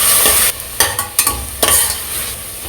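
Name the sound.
stir-frying onion, chilli and mint-coriander paste in pan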